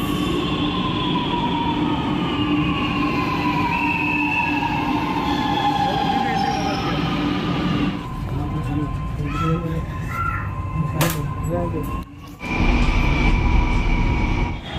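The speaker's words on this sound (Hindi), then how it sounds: "दूर है मेट्रो आ रही है" Metro train arriving at a station platform in Lucknow, a loud steady rumble with rising squealing tones and brakes. The noise stays heavy throughout, drops briefly near the end, then swells again.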